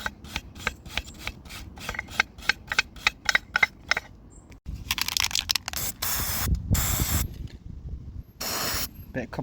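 A can of copper grease sprays in a car repair on a Volvo D850 front suspension bush, first as a string of short rapid bursts, then as longer hissing sprays after a pause, close and fairly quiet.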